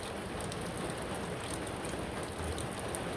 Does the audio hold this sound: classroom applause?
no